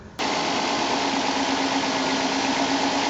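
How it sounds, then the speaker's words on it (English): A 2001-2007 Dodge Caravan V6 engine with new spark plugs and wires settles into a steady, even idle after starting, a constant close mechanical hum with no one talking. "I think the engine sounds better"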